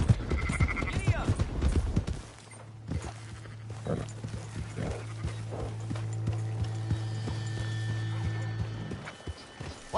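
Horse hooves clip-clopping as a rider spurs a horse along in Red Dead Redemption 2, a steady trotting rhythm under a droning background, with a brief whinny-like call and voices early on.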